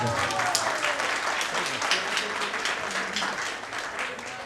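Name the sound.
applause at a school reunion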